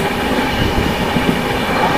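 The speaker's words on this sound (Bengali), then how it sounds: "এখন ট্রেনে করে যাচ্ছি" A moving passenger train in North Bengal rumbles steadily with a dense, loud rolling roar and faint wheel clatter, heard from on board with no speech.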